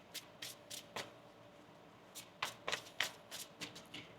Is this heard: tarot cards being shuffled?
yes